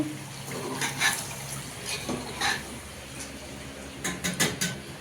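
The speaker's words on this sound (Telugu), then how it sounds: "కొంచెం వాటర్ వేద్దాం" Water splashes into a pan of chicken curry in a home kitchen in a few short, close pours, with no talking.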